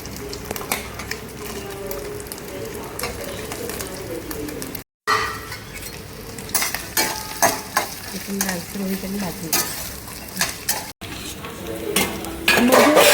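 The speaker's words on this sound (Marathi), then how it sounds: "भांड्यामध्ये तेल ओतून ओलं खोबरं भाजून घेतलं" Oil sizzles steadily in a pan while a utensil repeatedly scrapes and stirs grated fresh coconut roasting in the oil, with occasional light metallic clinks.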